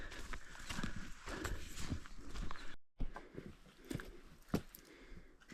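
A pack horse walks along a rough gorge trail, hooves thudding and scraping on rock and loose ground in an uneven plodding rhythm, close by, with rustling and scuffing between steps.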